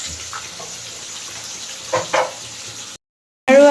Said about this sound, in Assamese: এয়া ভাজি আছোঁ মাছ